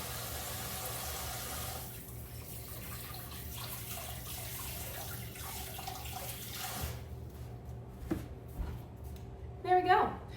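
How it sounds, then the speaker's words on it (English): Hands washed under a running kitchen tap, a steady hiss of flowing water that continues throughout, with a few louder splashes and clatters near the end. "Gonna give my hands a quick wash because it's gnarly."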